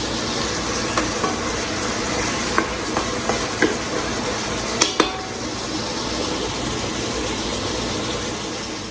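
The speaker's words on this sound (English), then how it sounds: "Take a little bit of time to break up the pieces of pork that are stuck together" Ground pork sizzles loudly in a pot while a utensil stirs and breaks it apart, a dense continuous frying hiss with a few sharp scraping knocks, close up and without talk.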